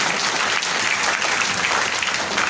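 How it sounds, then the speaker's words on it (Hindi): Dense, loud applause from an audience at an Ayurveda talk fills the short moment as a continuous, even wash of clapping without voices over it. "जोरदार ताली होनी चाहिए"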